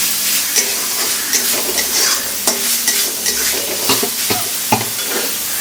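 Ginger, green chilli, onion and garlic paste sizzle in hot oil for a fish kalia, with repeated scraping stirs of a spatula against the pan in an uneven rhythm, close and fairly loud.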